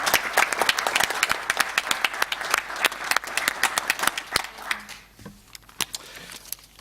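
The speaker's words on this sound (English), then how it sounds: "Could I please have a round of applause for our past chairman?" An audience at a council meeting breaks into applause, a steady patter of many hands clapping that thins out and fades over the last couple of seconds.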